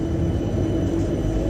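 A train at a railway station gives a steady low rumble and rolling drone, close and continuous, with no talking.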